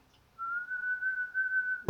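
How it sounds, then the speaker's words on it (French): A single steady whistled note, held and fairly loud, sustained alone with no audible darbuka strikes, ending on a brief sharp sound. "Darbuka avec évidemment sifflement et voix."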